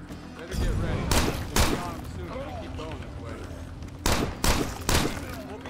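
Rapid bursts of gunfire in the zombie survival game State of Decay, several loud shots in two clusters over a steady ambient bed, with a voice talking between them.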